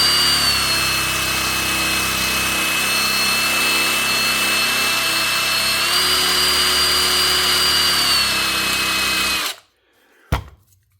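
A power tool runs steadily for about nine seconds while sanding and polishing a knife blade, a sustained whine that shifts pitch midway, then cuts off abruptly, followed by a brief clunk.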